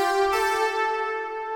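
Layered Serum oscillators, a four-voice saw and a detuned three-voice square wave, hold a rich, wide, buzzy chord that shifts once near the start and then sustains alone, with no talk.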